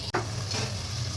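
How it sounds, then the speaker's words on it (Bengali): Cauliflower vegetable curry stirred in a hot pan, a short, close sizzle with a quick scrape of the spoon across the pan. "এখন সব কিছু ভালো মতো মিলিয়ে নিচ্ছি"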